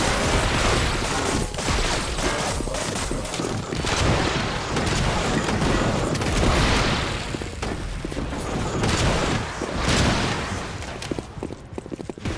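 Explosions and gunfire fill the Fortified video game, a dense, loud, continuous barrage of booms and rapid shots that rolls on almost without pause and drops away only at the very end.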